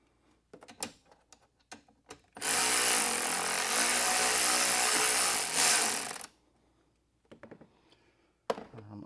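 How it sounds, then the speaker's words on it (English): A power drill or driver tightens screws while mounting a Pelican Vault rifle case onto the roof rack of a Toyota 4Runner, giving one loud, steady whir of about four seconds, framed by brief clicks and handling knocks before and after. "just tighten your screws"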